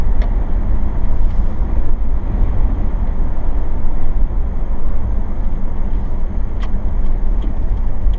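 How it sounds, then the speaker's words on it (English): Car driving along with steady engine drone and road rumble from inside the cabin, loud and continuous, with a few faint ticks and no talking. "Just wanted to make a little quick drive around."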